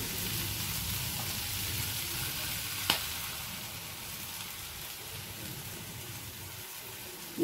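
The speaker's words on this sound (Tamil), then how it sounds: "அடித்த முட்டை இப்படி நடுவில் ஊற்றிக்கோங்க" Beaten egg hits hot oil in a pan for chicken kothu chapathi, sizzling steadily up close with a single sharp clink of a utensil partway through and no voices.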